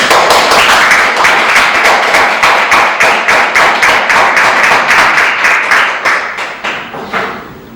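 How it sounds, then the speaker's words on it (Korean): An audience at a Korean lecture claps together, a loud burst of applause with a quick rhythmic pulse that thins out and fades near the end. "박수 한번 쳐주십시오."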